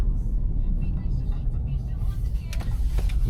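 A Kia K5 taxi drives through Dnipro, heard from inside the cabin as a steady, loud low rumble of engine and road noise with no break.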